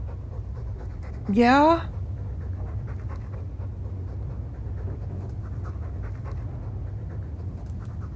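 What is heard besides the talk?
Mabari war dog panting, Dragon Age 2 video game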